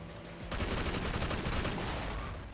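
Rapid gunfire in the video game Sleeping Dogs, a dense burst of shots starting abruptly after a short quiet lead-in and continuing loud for about two seconds.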